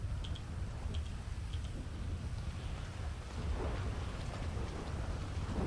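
Rain pours steadily during a thunderstorm in a roleplay video game, a loud, dense hiss with low rumbling thunder underneath and a few sharp drip-like ticks, continuous and without voices.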